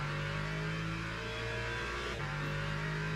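Steady GT3 race car engine droning in a Le Mans racing video game, a continuous mid-pitched hum with a brief dip in revs before it settles again, close and alone.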